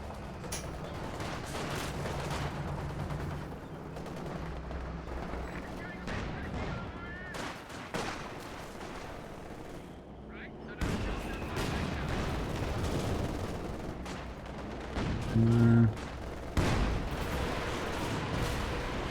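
Werfer rocket launcher artillery barrage in a competitive WWII video game match, a rolling series of booming impacts and dense gunfire layered over a commentator talking throughout.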